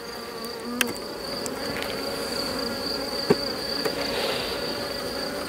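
A honeybee swarm hums inside a hive, a continuous close buzz of many bees with a few sharper individual buzzes passing near, no talk.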